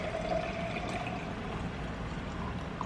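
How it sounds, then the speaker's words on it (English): Cold brew coffee poured over ice, heard up close as a steady, continuous liquid stream with a faint clink of ice under a soft background hiss. "And now I'm just gonna pour it over ice."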